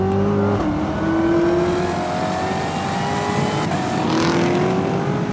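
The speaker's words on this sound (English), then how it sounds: "compared to the Viper, it's a much more charismatic engine." A Chevy Corvette ZR1's engine revs loudly and continuously, its tone climbing and falling as the car accelerates, with a faint tire squeal and no talking.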